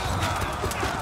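Cavalry horses in Total War: Three Kingdoms battle, hooves clip-clopping steadily amid busy combat noise with a faint whinny, while someone talks over the fighting.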